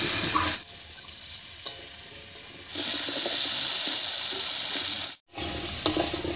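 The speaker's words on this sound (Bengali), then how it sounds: "আর এই অবস্থায় একটু ভাজা ভাজা করে নেব" Potatoes mixed with salt and turmeric fry in a pan, a close steady sizzle that drops away and swells back in bursts, broken by a brief silence, with occasional stirring knocks and no voices.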